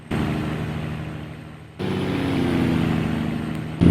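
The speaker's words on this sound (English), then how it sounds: "just enjoy the sounds from this truck, the Caterpillar motor" A heavy Caterpillar diesel truck engine in American Truck Simulator drones and revs, cutting out briefly before surging back louder and rising in pitch.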